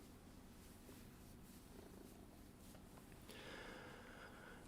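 Faint, steady purring from a pet cat close by, a continuous low rumble under a noisy background with no talk.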